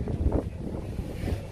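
Wind gusts across an outdoor beach volleyball court, a steady rough rumble and buffeting against the microphone, moderately loud and continuous throughout.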